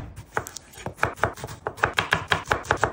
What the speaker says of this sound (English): Now let's cut the veggies, and it has to be a red onion.